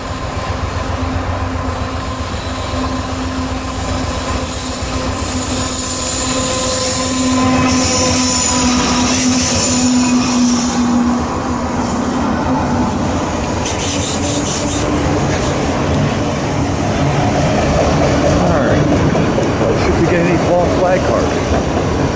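An eastbound freight train rolls past steadily on the Harrisburg line's Main 2 track, a continuous loud rumble of wheels and cars with a long high wheel squeal partway through and a sustained grinding rub.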